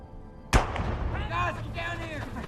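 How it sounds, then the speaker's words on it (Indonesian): A single sharp gunshot cracks loudly, followed by lingering rumble and background voices talking. "kedengaran suara tembakan."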